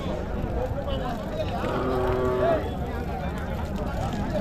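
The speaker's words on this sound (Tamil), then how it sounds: "ஒரு ஜோடி வளர்ப்பு கண்ணுங்க" Cattle at a busy Tuesday cattle market in Tamil Nadu: one low, drawn-out moo rises midway through a dense crowd murmur and continuous background noise.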